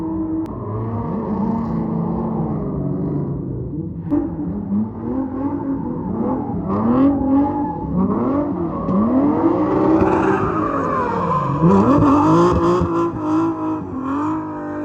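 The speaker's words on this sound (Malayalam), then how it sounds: "വണ്ടികൾ വരുന്നുണ്ട്" Cars at a JDM car meet gymkhana event rev and drive past one after another, their engine notes climbing and falling as they approach and pull away. Several loud, close passes build toward the end, with no talking.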